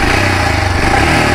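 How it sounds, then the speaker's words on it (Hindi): Royal Enfield Scram 411 motorcycle engine running close by, a loud, steady low thumping exhaust note throughout with no voices. "Let's start the bike right away"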